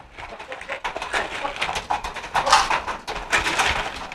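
Hungry racing pigeons crowd a loft at feeding time, with a busy, continuous mix of cooing, wing flutters and scratchy shuffling close by, swelling and dipping throughout.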